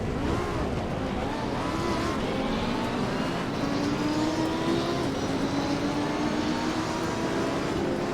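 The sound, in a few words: GT2 race car engines in Assetto Corsa Competizione video game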